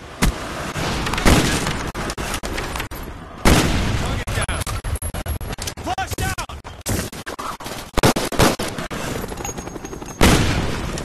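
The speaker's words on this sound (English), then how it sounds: "napalm strike on the way" Napalm strike explosions in a video game boom and crackle in several loud bursts, each followed by a decaying roar, with rapid gunfire-like rattles in between and a voice speaking briefly.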